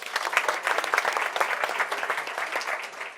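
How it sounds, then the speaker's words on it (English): An audience at a book launch bursts into dense, sustained applause, a full crowd of many hands clapping together at fairly loud, even level throughout. "please give him a warm round of applause"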